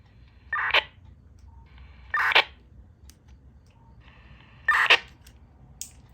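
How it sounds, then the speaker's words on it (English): Three short MDC 1200 data bursts received on a Motorola XTS portable radio, each a harsh buzzy digital warble lasting under a second, spaced about two seconds apart over a low hiss with no talk. "It's just a burst of data that has an audible noise."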